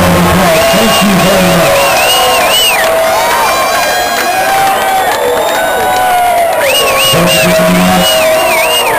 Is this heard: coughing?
no